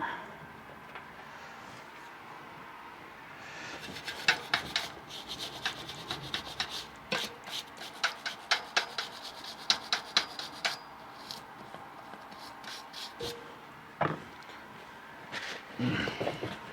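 Rubbing and scrubbing on a Specialized Rockhopper bicycle part during cleaning, a steady scratchy friction broken by a rapid run of short scraping strokes, close and fairly quiet with no speech.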